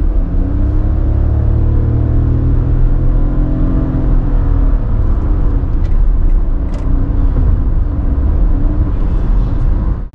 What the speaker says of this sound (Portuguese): eu quero que vocês se atentem ao som do motor do Basalt